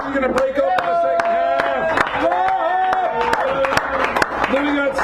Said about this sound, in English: Give Robert applause.